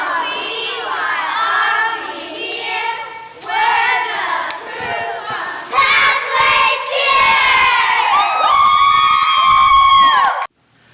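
Girls at a kids' church camp chant their team cheer together, loud young voices shouting in rhythm with clapping, the group call rising in excitement toward the end before cutting off.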